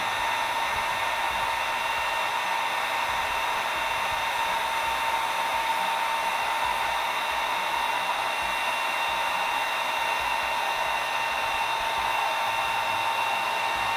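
A blow dryer runs steadily and close for the full stretch, heating a freshly applied tattoo stencil on skin, a continuous even whoosh with a whining hum and no talk.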